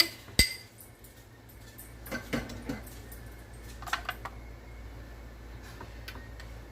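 Metal spoon clinking against a skillet and dishes while cooking a breakfast of roasted potatoes, bacon and eggs, a few sharp scattered clinks and scrapes close by in a quiet kitchen.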